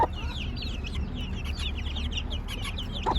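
Broody mother hens, including black Australorps, cluck steadily and low beside their chicks, whose thin high peeps rise in quick runs throughout at close range.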